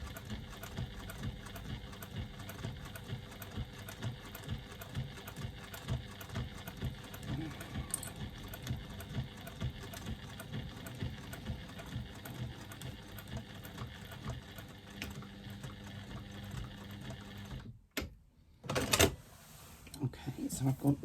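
A sewing machine with a size 16 universal needle slowly stitches across thick layered fabric, a steady low mechanical whir running for most of the stretch before stopping near the end, then brief handling sounds.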